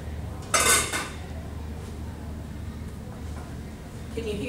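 Canning jar lids on home-canned tomatoes tested by pressing the tops, giving a brief metallic clink and rattle near the start, then faint taps against low room hum.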